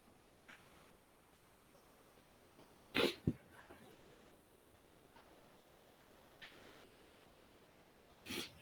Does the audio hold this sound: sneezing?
yes